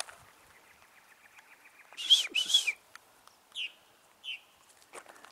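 Outdoor birdsong: a bird circling nearby calls in a few short bright whistles and chirps, spaced apart over faint background hiss, with no voices.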